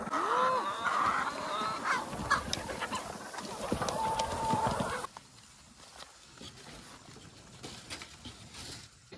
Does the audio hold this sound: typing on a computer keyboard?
no